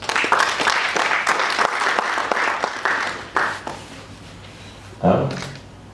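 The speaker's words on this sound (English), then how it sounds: "all of you deserve another round of applause" Applause for TB Caucus members in Ghana's parliament, a short burst of clapping that fades out, followed by a brief knock or thud near the end.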